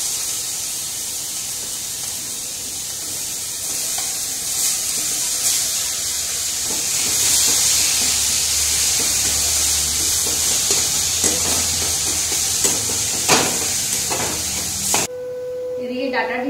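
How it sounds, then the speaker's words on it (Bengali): Hot oil sputters and crackles steadily with tempering spices and chilli in a home kitchen pan, a dense sizzling hiss with scattered sharp pops that runs for about fifteen seconds and then cuts off. "দেখো তেল দিলেই আমার এরকম ফাটাফাটি করতে থাকে"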